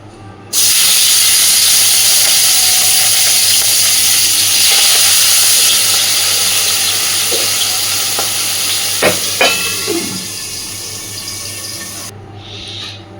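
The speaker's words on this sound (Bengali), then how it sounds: "মাছগুলো এবার ভেজে নেব সব।" Fish frying in hot oil in a pan: a loud, steady sizzle running nearly throughout, with a few brief clinks and stirring sounds near the end.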